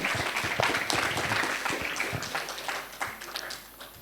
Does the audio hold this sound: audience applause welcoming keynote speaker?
yes